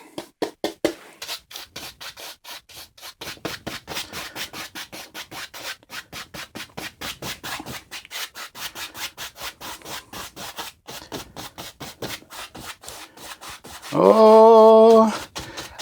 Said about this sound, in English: we're just doing these crisscross strokes as we push that paint into the canvas